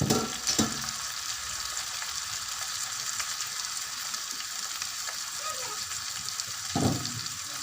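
Tomatoes and ginger-garlic-green chilli paste sizzle steadily in a pan. A few louder clatters come from stirring near the start and end.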